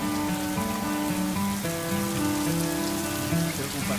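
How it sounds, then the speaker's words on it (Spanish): Steady rain from a thunderstorm patters over the surroundings in a dense, constant wash, with sustained tonal sounds running beneath it. "en este momento estamos viendo una hermosísima y relajante tormenta."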